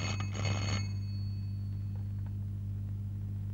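An old-style telephone bell rings at a police station, a loud electric trill lasting under a second at the start, then only steady low mains hum remains.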